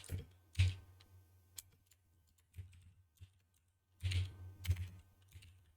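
Someone types a BASIC program on a 1986 Macintosh keyboard, producing scattered clusters of key clicks separated by pauses, with a couple of louder bursts of rapid keystrokes near the start and again toward the end.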